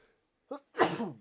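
A single sneeze from a podcast participant: a short sharp inhale catch followed by a loud, breathy burst, close and alone.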